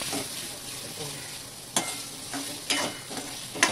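Garam masala powder stirred and sautéed in hot oil for a fish curry, a steady soft sizzle broken by several sharp scraping strokes of a spoon against the pan, close up with no talking.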